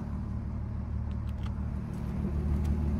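A MK5 Volkswagen R32 with a DSG gearbox and a Signature Wookie exhaust drives along, its engine giving a steady, deep rumbling drone that swells slightly toward the end, with no voices.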